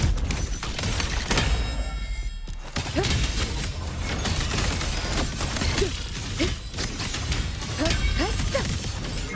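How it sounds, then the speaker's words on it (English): Automated Shan bombard cannons in Wuthering Waves fire in a busy, layered barrage of crashing impacts and bursts, with a brief hush near the start before loud repeated blasts and swishes resume throughout. "Think of it as a very powerful automated cannon."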